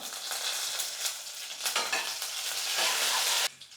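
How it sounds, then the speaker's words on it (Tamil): Garlic and curry leaves fry in hot oil in a pan, a close, bright, crackling sizzle that swells toward the end and is then cut off abruptly, with no voices. "இப்போ அந்த பூண்டு சேர்த்துக்கிற கொஞ்சம் கருவேப்பிலை"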